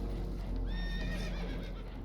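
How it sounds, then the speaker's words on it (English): Spooked horses in the video game Red Dead Redemption 2 let out a clear, high, wavering whinny midway through, with hoof clatter and a low rumble beneath, fairly faint overall. "Horses are spooked, and we're taking on water."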